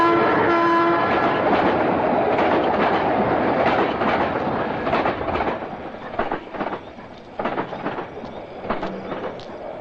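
Train passing near a railway bridge, a long horn blast at the start over loud rolling rumble, then rhythmic clatter of wheels fading and turning uneven as the cars go by, no speech.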